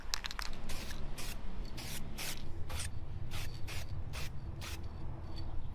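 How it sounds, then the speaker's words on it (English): An aerosol can sprays bolts for a custom 4x4 off-road bus, giving a series of short, close hissing bursts, several quick ones at first and then evenly spaced spurts over faint background noise. "I'm gonna spray these bolts"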